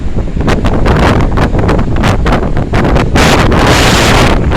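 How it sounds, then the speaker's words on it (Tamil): Strong cyclone wind blasts across the coast, roaring loud and constant over the microphone with heavy buffeting gusts and no let-up. No voices are heard. "இவ்வளோ வேகமாக இருக்குதுக்கா காற்று கொஞ்சம் நஞ்சம் இதில் அப்படியே பறக்குது"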